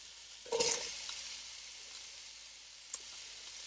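Yellow onion, carrots and celery hit a hot pan and sizzle as they start caramelizing, with a sharp burst at the start settling into a faint steady fry and one brief clink later.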